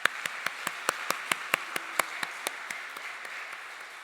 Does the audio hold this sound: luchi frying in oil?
no